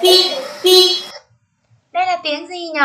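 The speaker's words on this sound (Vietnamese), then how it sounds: "Tiếng còi xe máy." A motorbike horn honks twice in quick, loud, steady beeps, then a voice speaks after a short pause.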